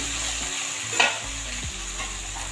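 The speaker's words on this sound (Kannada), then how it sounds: "ಕೊತ್ತಂಬರಿ ಸೊಪ್ಪನ್ನ ಚೆನ್ನಾಗಿ ಮಿಕ್ಸ್ ಮಾಡ್ಕೊಳ್ಳೋಣ." Fried onions being stirred with fresh coriander leaves in a pan for a potato palya, a constant close sizzle with a spatula scrape and a sharper clatter near the middle, no voices.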